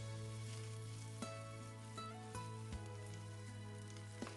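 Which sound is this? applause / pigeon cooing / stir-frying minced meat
stir-frying minced meat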